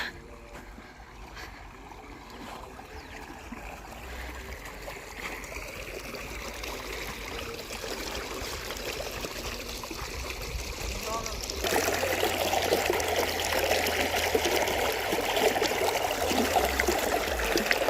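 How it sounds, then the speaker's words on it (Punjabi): Irrigation water flows steadily through a field channel beside maize crops, a continuous trickling rush that grows louder and fuller partway through, with outdoor wind in the background. "ਠੰਡਾ ਠੰਡਾ ਪਾਣੀ ਆ ਰਿਹਾ ਹੈ ਬਹੁਤ ਸੋਹਣਾ"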